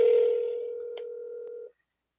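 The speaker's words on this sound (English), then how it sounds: "Do you hear the ringing?" A single ringing tone sounds on a phone line while calling a barbecue restaurant, steady and clear for under two seconds before cutting off into silence.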